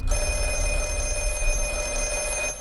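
An old-style telephone bell rings steadily and loudly for a few seconds in The Black Phone film trailer, a continuous metallic trill with no speech.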